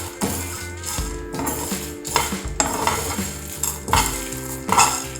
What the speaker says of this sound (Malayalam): ഈ ഉഴുന്നും പരിപ്പൊക്കെ ഒന്ന് ഗോൾഡൻ കളറാകുന്ന വരെ നമുക്കൊന്ന് വറുത്തെടുത്താൽ മതിയാവും.